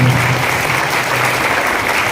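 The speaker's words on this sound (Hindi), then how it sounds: "और एक बार अपने लिए सभी साथी जोरदार तालियां बजाएं।" Loud, dense crowd applause from party workers at a political gathering in Meham, continuous and even without breaks, close and filling the space.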